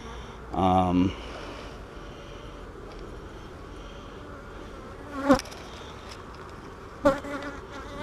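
Honeybees buzz steadily around an open hive during an inspection of brood frames, with a close insect drone passing by and a few sharp knocks or clicks from handling the frames.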